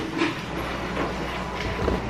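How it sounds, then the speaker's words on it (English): A dog named Peanuts shreds cardboard boxes indoors, with repeated close tearing and rustling bursts across a couple of seconds and no voices. "If you're wondering what that sound is, peanuts shredding boxes."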